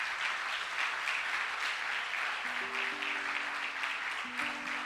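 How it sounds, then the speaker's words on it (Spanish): A church congregation applauding, a soft, steady wash of clapping heard from a distance with faint tonal sounds entering partway through. "¿Cuántos damos un aplauso fuerte al Señor Jesucristo?"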